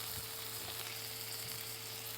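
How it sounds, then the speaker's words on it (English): Steady sizzling and crackling of a turkey, pesto, avocado and Swiss cheese panini on sourdough frying in a hot pan, continuous and close, with no voices. "Listen to that sizzle."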